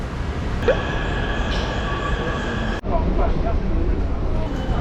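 A Taipei subway train rumbles loudly and continuously from inside the carriage, with a steady roar of wheels and motor, a brief squeal early on and a sharp dip partway through.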